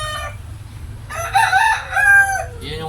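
A gamecock rooster crows nearby, one loud, drawn-out harmonic call lasting about a second and a half, preceded by softer clucking and set over low background noise.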